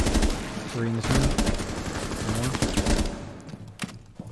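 Bursts of G36 rifle tap fire in Rainbow Six Siege crack in short clusters of quick shots, close and loud, with pauses between groups and someone talking over parts of it.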